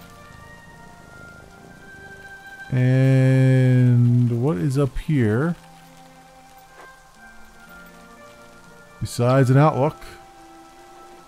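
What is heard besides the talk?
rain falling in the video game Yonder: The Cloud Catcher Chronicles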